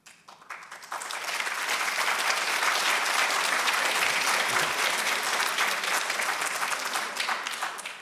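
An audience at a Tel Aviv address by White House Chief of Staff Rahm Emanuel breaks into loud, sustained applause, swelling after the first second and holding steady as dense clapping to the end.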